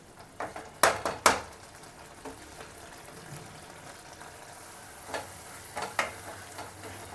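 Quiet scraping of a utensil against a pan of thickening stuffed brinjal curry, a few sharp clinks and scrapes standing out over a soft cooking hiss, no voices.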